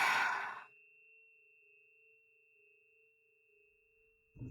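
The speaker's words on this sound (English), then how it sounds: "Breathing in" A deep breath drawn in during a guided meditation, heard as a short, close, breathy rush at the start before a quiet, steady drone tone takes over and sustains underneath.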